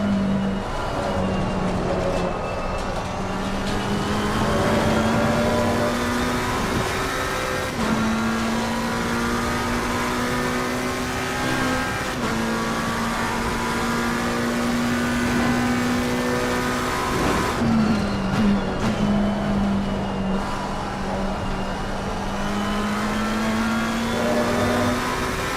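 A race car engine in the Assetto Corsa Competizione sim, shown in VR, holds a steady high drone throughout with smooth pitch rises and shifts as it climbs through the gears. It stays loud, continuous and close, with no talk over it.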